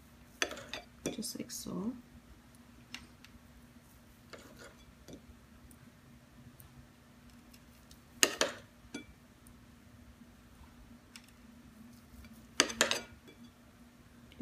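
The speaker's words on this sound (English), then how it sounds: "you just want to cut it in some thin slices" A knife slices rolled pizza pinwheel dough into thin strips, making a few sharp taps and clicks against the board in scattered bursts. A soft voice speaks over a faint steady hum.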